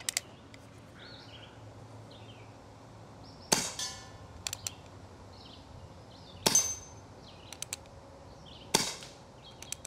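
An Umarex Colt Peacemaker .177 pellet revolver fires three sharp, loud shots a few seconds apart, each a crisp crack with a short ring-off, separated by small mechanical clicks of cocking the hammer in a quiet outdoor setting.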